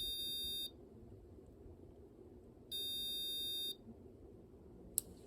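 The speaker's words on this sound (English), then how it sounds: "when you press this button, it should beep" A homemade Arduino fire alarm buzzer triggered by a button press sounds two steady, piercing electronic beeps, each lasting about a second with a pause between, over a low background hum, followed by a brief click.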